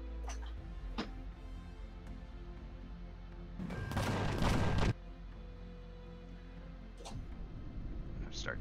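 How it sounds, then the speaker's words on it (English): Gunfire crackles in the Empyrion space game during an alien armada raid, with scattered sharp shots and a dense burst of sustained fire mid-clip over a constant engine-like drone. "Oh, looks like I'm taking fire."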